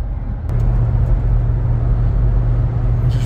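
Inside a Jeep Gladiator on the move, a steady low engine drone and road rumble hold throughout, fairly loud and even, with one brief click early on and no talking.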